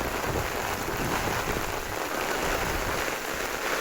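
Heavy rain pours steadily onto the ground outside a mosque, a dense, unbroken hiss of falling water that is close, loud and constant, with no voices heard.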